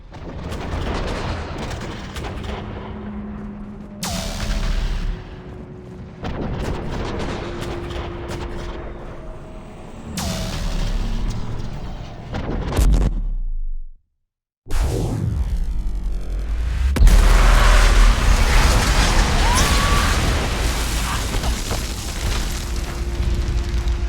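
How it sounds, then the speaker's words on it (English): In the video game Mass Effect 3, a Reaper's main gun fires on a cruiser, producing deep, loud booming blasts and rumbling explosions in bursts, with a brief silent gap before a sustained roaring wash of noise. "we're going to see how a human Dreadnought, actually that's a cruiser, but that's a whole different thing, fares against the main gun of a Reaper"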